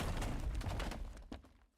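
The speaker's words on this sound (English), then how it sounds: "The huge explosion sends debris flying in all directions and triggers a shockwave of smoke and dust." A huge explosion in the video game Girls Frontline, a burst of rapid booming thumps and crackling blasts that rolls on, then fades out with a last thud.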